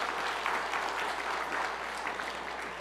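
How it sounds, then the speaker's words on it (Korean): Church congregation applauding the choir after a hallelujah hymn, a steady wash of many hands clapping at close range, even and sustained throughout with no voices on top. "하나님께 우리 감사의 박수 한번 더 올려드리겠습니다."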